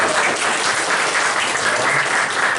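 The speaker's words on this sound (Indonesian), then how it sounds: "Kasih tepuk tangan buat ibu-ibu." Dense, steady applause from an audience at a church retreat session, many hands clapping at once and filling the room evenly for a couple of seconds, with no voices standing out.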